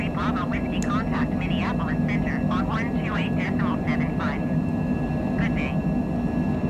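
Steady, loud engine drone fills a Cessna light aircraft cruising on a flight from Lincoln, Nebraska, to Louisville, Kentucky, carrying little fuel or load, with people talking over it throughout.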